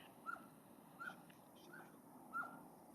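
Several faint, high whimpers come from a dog stuck on a cliff during a wild boar hunt in Ordu. Three or four brief cries are spread over a few seconds, heard at a distance against quiet outdoor background.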